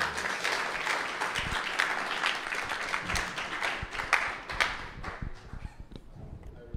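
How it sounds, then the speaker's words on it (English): A room of people gives Barry a round of applause at a homeowners' showcase hosted by the Bank of Montserrat, a dense, steady patter of clapping that runs throughout and thins slightly toward the end. "I think Barry deserves a much bigger round of applause."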